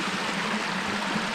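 Heavy water rushing down a drainage stream on the steep east face of Balsam Mountain in the Catskills, a steady broadband roar with no pauses, close and fairly loud.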